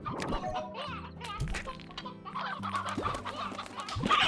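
Chickens in the video game Slime Rancher cluck and squawk in short bursts over a steady game hum.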